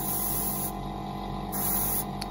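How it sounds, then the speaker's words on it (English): Aerosol spray can laying a black undercoat onto a miniature model: a steady close hiss with brief pauses between bursts. "So I just spray her black initially."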